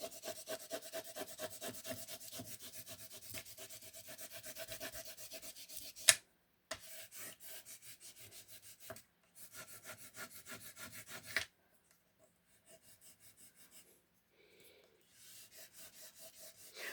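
Scraping of an object dragged back and forth across a hobby craft surface, a steady close rasping rub that runs for several seconds, breaks off briefly, resumes, then fades to quieter intermittent strokes.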